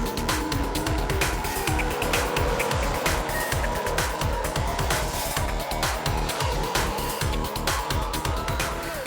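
A1GP race cars, including Team Australia and Lebanon, battle wheel to wheel on a start-finish straight lined by walls, a dense, loud, continuous engine scream with rapid stuttering pulses throughout.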